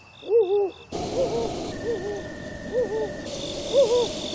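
Soft, rounded owl hoots from the game Legend of Zelda: Breath of the Wild repeat in pairs at a slow, steady pace, set against a quiet electronic ambient hum with a faint high tone.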